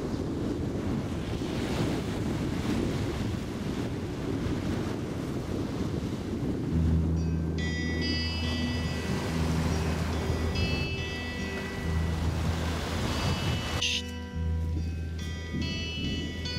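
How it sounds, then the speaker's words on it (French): Pacific Ocean waves and surf at the edge of a lagoon in New Caledonia: continuous broad wash of surf with wind noise on the microphone, joined midway by a steady low engine-like hum. "la fin du lagon, l'océan Pacifique."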